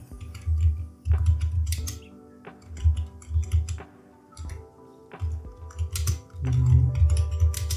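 Typing on a computer keyboard while entering a request into ChatGPT, heard as bursts of close, soft key clicks in short irregular runs separated by brief pauses.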